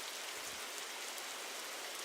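Steady rain in a video game, an even, continuous hiss of falling drops, soft and unbroken with no voices.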